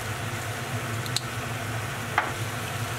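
Tomato and egg stir-fry sizzling in a pan, a soft, steady frying hiss at low volume with a couple of brief clicks from a utensil; no voices.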